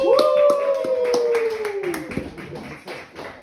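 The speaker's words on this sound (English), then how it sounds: "Keep the applause going for Joe!" Applause for comedian Joe Ford at a comedy night, a small audience clapping in a loose, sparse rhythm of distinct hand claps while a voice speaks over them.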